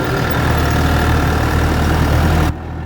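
A heavy tractor engine drones steadily at close range, loud and rumbling, then drops in level abruptly near the end.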